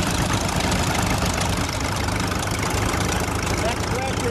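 An antique Minneapolis U tractor engine pulls a three-bottom hydraulic assist plow, a loud, steady low rumble with constant mechanical chug throughout, close by and continuous, with voices faintly mixed in.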